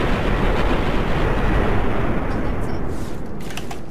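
Weapon fire in Fallout New Vegas, a dense, loud, continuous roar of rapid shots and blasts with no gaps over the whole stretch, a few sharp metallic clicks near the end.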